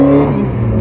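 Brief, loud snarl of historic Formula One racing cars from 1954 to 1985 revving at the Concorso d'Eleganza Villa d'Este 2018, a sustained close mechanical engine tone.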